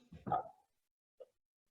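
A small dog gives a short burst of close barks, then a single faint yip after a pause, with the rest of the moment quiet.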